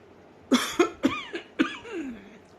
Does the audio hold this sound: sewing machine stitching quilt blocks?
no